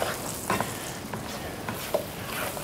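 Beaten eggs with broken yolks sizzle and fry in a hot pan for a breakfast wrap, a steady close crackle with occasional scraping from a utensil, no voices.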